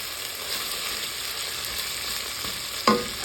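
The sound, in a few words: stirring chicken karahi in a pan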